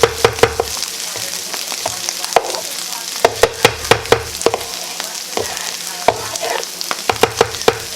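Hash with egg fries on a flat griddle: a loud, steady sizzle punctuated by frequent sharp scrapes and taps of a spatula pressing and flattening the food, close up and without speech.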